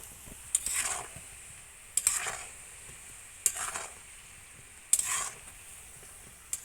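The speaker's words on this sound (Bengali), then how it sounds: "এই জন্য আমি খুব হালকা আঁচে আস্তে আস্তে করে ভেজে নিচ্ছি।" Chicken cutlets fry slowly on low heat with a soft steady sizzle, broken by four sharp scraping bursts as they are turned or stirred in the pan, with no talk.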